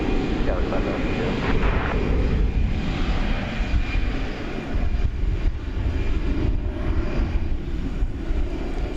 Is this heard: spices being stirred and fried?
no